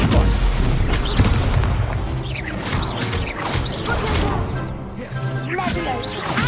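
Stupefy spell impacts in the Hogwarts Legacy video game, repeated heavy booming hits and crashes layered with whooshing magical effects and clattering debris, dense and loud across the whole stretch.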